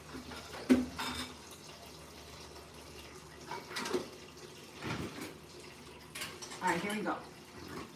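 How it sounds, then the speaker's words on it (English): About four cups of water poured into a pot for a beef stroganoff, heard as a brief splashing and running-water sound under a person talking throughout. "I'm gonna add about 4 cups of water"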